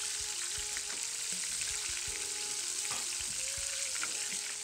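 Small quail frying in a pan, a loud continuous sizzle and crackle with occasional knocks and scrapes of a utensil close by.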